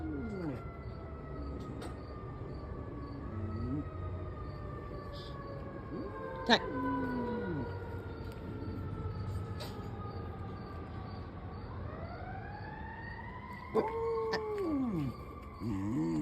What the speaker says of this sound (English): They howl every time they hear sirens